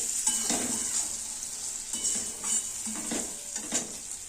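Dried fish being stir-fried in onion masala in a pan, steady sizzling under repeated scraping stirs about once a second, close and moderately loud with no talk.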